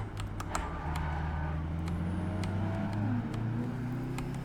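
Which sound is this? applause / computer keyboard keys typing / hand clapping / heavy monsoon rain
computer keyboard keys typing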